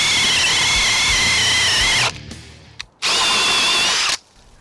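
A RIDGID OCTANE drill bores through wood with a 1 inch spade bit, a loud high whine running for about two seconds, a brief pause, then a second burst before stopping.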